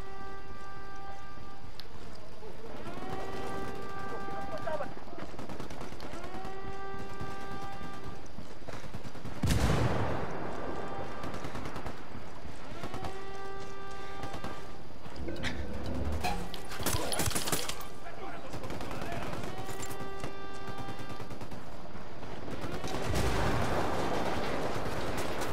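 Gunfire in the game Ghost Recon Wildlands, scattered sharp shots and bursts over a steady background, with repeating tonal chirps like birds or radio beeps recurring throughout.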